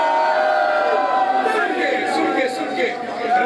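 A crowd at a Jashan 16 Shabaan religious gathering in Choor Chowk, Rawalpindi, chants slogans together, a loud mass of voices rising and swelling in rhythmic waves.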